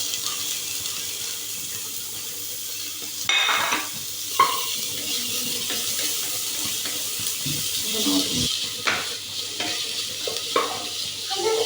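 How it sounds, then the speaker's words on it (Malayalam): Onion and carrot sauté in a pan for upma, giving a steady close sizzle broken by the scrape and clatter of a spoon stirring against the metal. "സവാള ഒന്ന് വഴണ്ട് വന്നാൽ നമുക്ക് ക്യാരറ്റ് ഇട്ട് കൊടുക്കാം."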